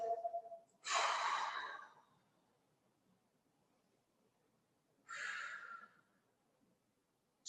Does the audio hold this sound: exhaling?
yes